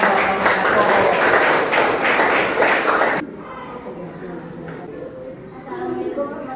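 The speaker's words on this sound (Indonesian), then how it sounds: "kasih tepuk tangan buat kelompok 1" Classroom audience clapping for a student group, a brief burst of applause mixed with voices that cuts off abruptly, followed by quieter room sound and talking.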